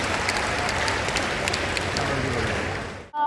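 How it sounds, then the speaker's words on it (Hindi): An audience at a ceremony where the Chief Minister rewards young players gives steady, dense applause close by, holding evenly before fading out at the end. "एक बार जोरदार तालियों से इन सभी का हम यहाँ पर सम्मान करना चाहेंगे"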